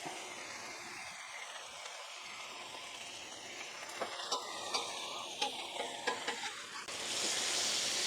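Butter and beef sizzling on a tilted griddle, a faint, steady hiss with a run of light ticks and scrapes, then a louder burst of frying near the end, with no voices.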